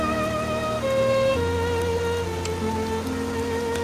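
Heavy rainy-season rain falls near a flooded riverbank, a steady dense hiss lasting throughout, with sustained tonal hums layered underneath.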